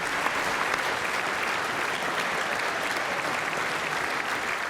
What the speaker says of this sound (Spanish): recibió este aplauso